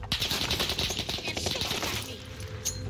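Gunfire in the Warzone battle royale game, a rapid stream of fairly loud automatic shots rattling continuously over the whole stretch, with other game sounds mixed in.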